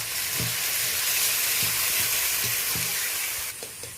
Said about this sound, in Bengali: পেঁয়াজ, কাঁচা লঙ্কা, আদা বাটা একসাথে আমি ভালো করে কষিয়ে নিয়েছি